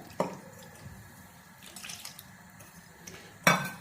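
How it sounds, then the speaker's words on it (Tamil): Water splashes into a pot of Tirunelveli idi sambar in a couple of short pours, with faint clinks and quiet kitchen sounds between them. "இன்னும் கொஞ்சம் தண்ணியை நான் சேர்த்துருவேன்."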